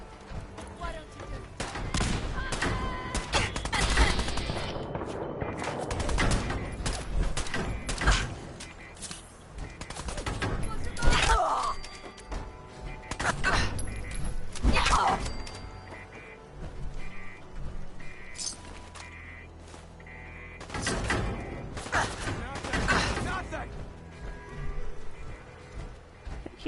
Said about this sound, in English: He's shooting at me from upstairs, maybe.